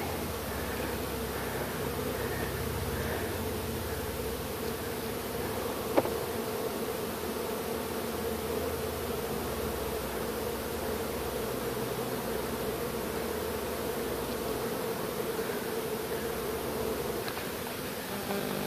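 Honey bees from a package hive swarm around honey supers, their dense, continuous buzzing filling the air nearby without a break, with one brief knock partway through and no talking.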